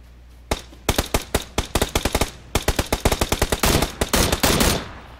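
Rapid bursts of automatic gunfire in the video game PUBG, loud and close, with sharp repeated shots in quick rhythmic strings that build into a dense continuous volley.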